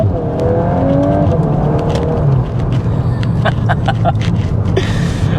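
A VW MK8 Golf R pulls away under launch control, its engine droning strongly and steadily from inside the cabin, with brief clicks and a voice exclaiming over the acceleration.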